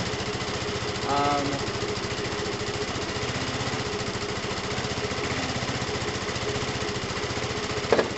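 A Lexmoto FMR 125 motorcycle, one with a charging fault, idles on choke with a steady, fast-pulsing single-cylinder chug that holds near and even throughout.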